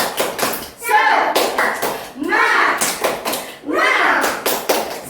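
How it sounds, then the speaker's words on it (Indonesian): A voice chants rhythmically while hands clap in quick bursts, several claps grouped between the spoken phrases, close and fairly loud. "coba tepuk semangat"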